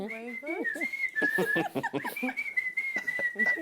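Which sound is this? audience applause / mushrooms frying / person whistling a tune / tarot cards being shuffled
person whistling a tune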